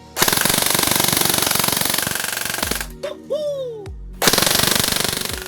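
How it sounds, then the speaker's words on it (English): Tokyo Marui MP5K high cycle airsoft gun firing BBs in long, very rapid full-auto bursts, loud and close, with a brief gap in the middle carrying clicks and a mechanical whir before firing resumes. "This is the Tokyo MARUI HMK MP5K HC high cycle, and oh my gosh, is that high cycle"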